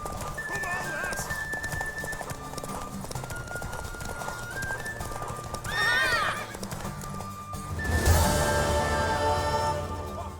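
Rapid hoofbeats of galloping horses in a race in The Witcher 3, with loud whinnies, over background music and shouting voices; a burst of neighing rises near the end.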